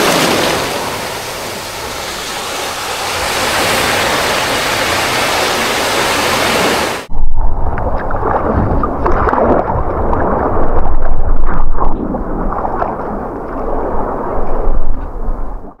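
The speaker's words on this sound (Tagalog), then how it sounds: "sobrang lakas ng alon" Strong ocean waves crash onto the shore in a dense, loud roar, first as continuous broadband wash, then as closer surging and breaking surf with gusty bursts.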